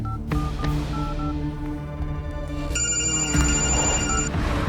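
A telephone rings with repeated electronic tones, close and steady, and the ring pattern shifts to a higher pitch partway through, with no talking over it.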